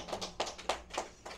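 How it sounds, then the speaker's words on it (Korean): A short burst of several hand claps in a steady rhythm inside a church sermon, fairly close and moderately loud, with no talking over them. "박수."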